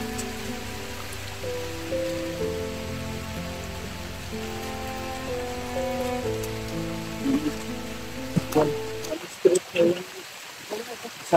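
Heavy rain pours down steadily and close, with musical tones and voices running over it before a burst of sharper knocks and splashes near the end.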